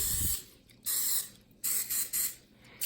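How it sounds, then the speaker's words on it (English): Coconut oil sprays onto vegan gluten-free bagels in several short hissing bursts separated by brief pauses, close and fairly soft. "The recipe says to brush them off with coconut oil. I'm just gonna spray it."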